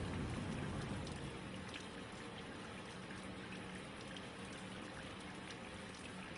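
Running tap water pours steadily during a surgical hand scrub as fingernails are cleaned, a faint, even hiss and patter that continues without a break and without speech.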